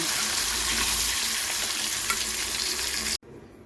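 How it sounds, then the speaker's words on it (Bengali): Whole garam masala, cumin seeds and bay leaves sizzle and crackle loudly in hot oil, a dense, steady frying hiss up close that cuts off abruptly near the end. "তেল গরম হয়ে গেছে, এতে গোটা গরম মশলা, সাদা জিরে আর তেজপাতা ফোড়ন দিয়ে দিলাম।"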